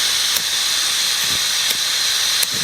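A steady, loud gas hiss roars continuously from a small Pocket Rocket camping stove burner, with a few faint clicks and taps.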